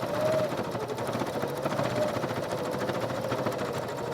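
A sewing machine runs steadily, stitching a narrow seam on a fabric wrist cuff, a continuous even whir held for several seconds with no voices.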